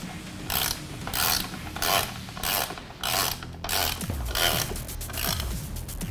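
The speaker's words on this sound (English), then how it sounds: "Tighten them down with your 21mm socket." Ratchet wrench with a 21mm socket tightening the rear tire nuts on a Rover or Golf, giving repeated rhythmic clicking strokes close up, alone, with a few heavier clunks near the end.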